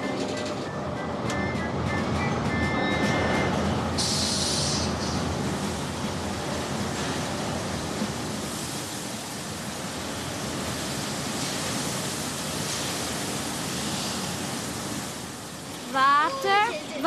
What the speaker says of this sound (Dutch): water, water en grote borstels